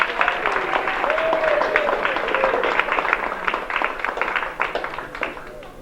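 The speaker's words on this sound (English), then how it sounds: "A real hearty round warm of applause for Miss Addie Shields" An audience applauds outdoors at a 227th anniversary commemoration of the Battle of Valcour, a dense, steady patter of many hands clapping that lasts throughout, with a few voices mixed in.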